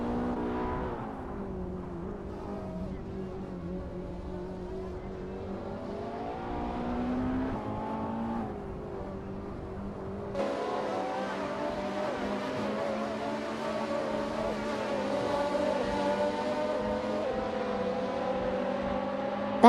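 A 2019 Radical SR3, a lightweight race car, racing with a sustained engine drone whose pitch rises and shifts, loud and continuous throughout.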